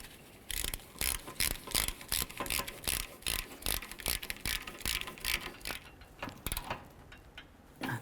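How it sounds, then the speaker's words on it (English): A hand ratchet clicks rapidly in repeated bursts while tightening the rear engine mount bolts on a 2007–2012 Nissan Altima, close and crisp, slowing toward the end. "Let's tighten these up."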